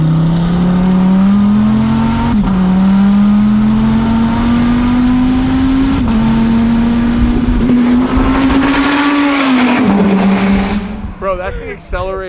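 Daytona prototype race car at speed on a track, a loud sustained engine whine that climbs steadily through gears, then fades near the end as people talk over it.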